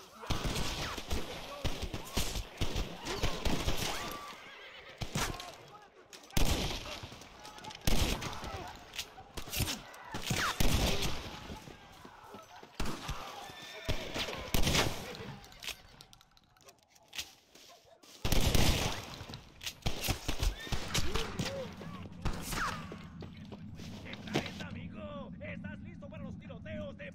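Gunfire in the Red Dead Redemption video game, repeated sharp shots and bursts scattered across the clip, with frequent talking over the game noise.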